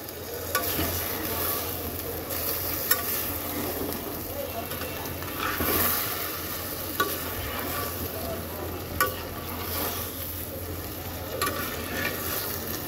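Catla fish roe curry with potatoes sizzles and is stirred in a pan, a continuous frying hiss broken by occasional sharp clinks of the spatula against the metal, with someone speaking at times over it.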